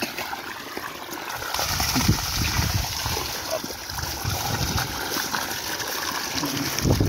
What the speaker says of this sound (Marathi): बघा हे पाणी.